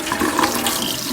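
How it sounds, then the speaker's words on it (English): Water runs steadily from a kitchen sink tap as hands are rinsed while baking a mocha Yule log cake, a continuous close rushing stream. "I'm just going to rinse my hands again."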